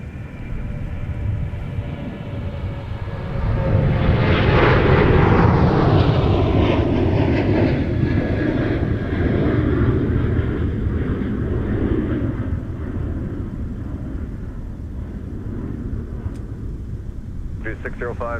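A jet airliner roars as it departs, the engine noise swelling loudly then slowly fading as it climbs away, with radio chatter underneath.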